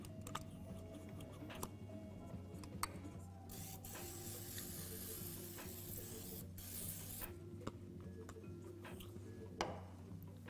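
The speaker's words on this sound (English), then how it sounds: "we're just going to spray this with a little bit of grapeseed oil" Grapeseed oil is sprayed into a 13 by 9 baking dish in a few short, soft hissing bursts against a quiet kitchen background with faint clinks and ticks.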